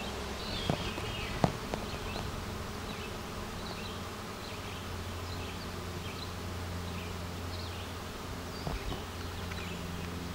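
A dense, continuous drone of a swarm of honey bees buzzing together outdoors, steady and moderately loud, with a few sharper knocks near the start.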